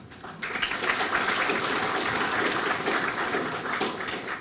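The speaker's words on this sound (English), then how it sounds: "So I want us to give all of us a big round of applause." At a development partners roundtable, the attendees give a round of applause, a steady mid-level patter of many hands clapping that starts after a brief lull and continues throughout.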